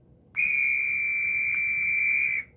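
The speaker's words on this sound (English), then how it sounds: "They have a whistle, which means get on the train, it's leaving." A train departure whistle gives a single shrill, steady blast lasting about two seconds, clear and alone against a quiet background.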